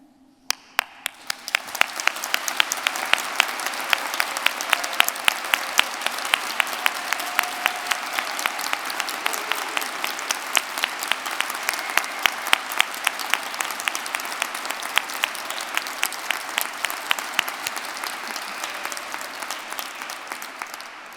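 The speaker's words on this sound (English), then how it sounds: "we're going to practice giving them thunderous applause" Loud, sustained audience applause at a degree ceremony for graduates, a dense wash of many hands clapping that swells quickly and holds steady for about twenty seconds with a few sharper individual claps standing out.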